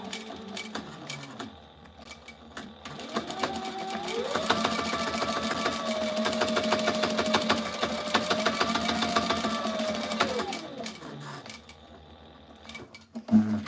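Strap pieces for tactical gear are stitched together on a sewing machine that whirs steadily and loudly, speeding up and holding pace for several seconds before slowing and stopping.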